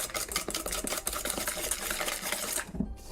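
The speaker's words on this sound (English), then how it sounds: "Just like whisking ASMR." Batter being whisked by hand in a bowl during home baking, a steady fast rattling scrape of the whisk running without a break and stopping abruptly near the end, close and clear with no voices.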